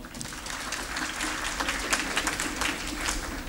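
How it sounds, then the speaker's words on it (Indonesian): An audience at an IPNU (Nahdlatul Ulama student association) East Java gathering breaks into sustained, dense applause, steady and fairly loud throughout with no talking over it. "kita tepuk tangan untuk beliau"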